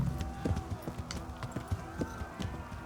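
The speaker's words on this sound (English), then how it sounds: "that's how you ride a horse" A horse gallops in the medieval video game Kingdom Come: Deliverance, its hooves striking in a quick, regular clip-clop rhythm at close range, with faint background sounds.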